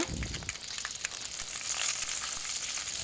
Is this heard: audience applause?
no